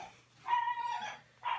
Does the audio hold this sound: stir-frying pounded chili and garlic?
no